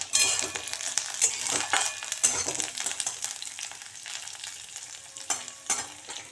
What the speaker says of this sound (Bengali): আমরা গাজরগুলো এখানে দিয়ে দিচ্ছি কড়াইয়ে।